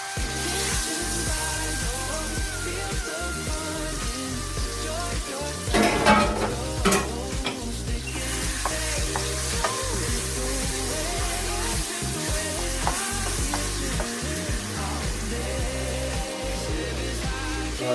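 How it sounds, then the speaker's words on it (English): Chicken breast sizzles and fries loudly in a hot pan, a dense, steady crackle close up with occasional stirring scrapes and clinks, no talking. "we finished frying up the chicken breast"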